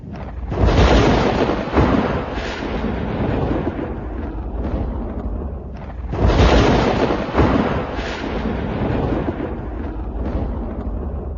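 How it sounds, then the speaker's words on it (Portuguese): A thunderstorm plays back loud and close: two heavy thunder blasts, each rolling into a long, dense rumble with a rain-like hiss. No one speaks. "vocês viram essa tempestade? Vocês já enfrentaram uma tempestade dessa?"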